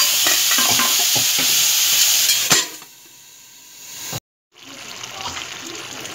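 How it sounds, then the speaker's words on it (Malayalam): Chopped tomatoes and half a cup of water stirred into ivy gourd (kovakka) masala curry in a pan, a loud sizzling hiss with scraping stirs that drops off sharply to a quiet simmer, then a brief gap before the low bubbling resumes. "ഇളക്കി മൂടി വയ്ക്കുക."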